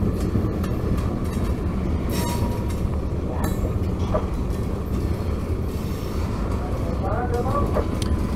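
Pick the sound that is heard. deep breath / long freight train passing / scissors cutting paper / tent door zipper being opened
long freight train passing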